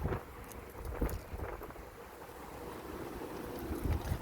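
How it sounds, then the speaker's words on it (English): Low wind rumbles and buffets outdoors on a mountain, rising in a few gusty swells over a steady blustery background. "Get some big gusts of wind up here."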